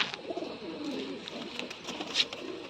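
Soft, low pigeon coos murmur close by over a faint background hiss, with light rustling and a brief flutter near the end.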